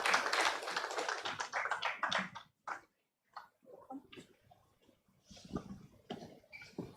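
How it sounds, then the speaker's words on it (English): An audience at a blockchain conference applauds in a dense burst of clapping that thins out into scattered, fading claps. "Please, let's keep clapping till he comes up."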